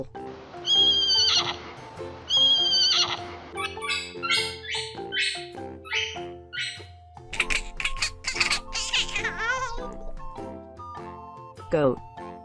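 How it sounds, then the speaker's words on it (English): A foal neighs in two loud, drawn-out whinnies close up. Other voiced calls and sounds follow after them. "foal,"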